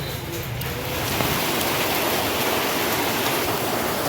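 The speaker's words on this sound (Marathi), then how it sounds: "किती जोरात पाऊस पडतोय" Dense, steady rush of heavy rain pouring down at close range, a constant broadband hiss with no pauses.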